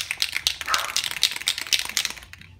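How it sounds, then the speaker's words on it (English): Rapid rattling clicks from a shaken spray paint can, a steady rhythmic clatter of the mixing ball lasting a few seconds, close by. "you get this can, you shake it really well"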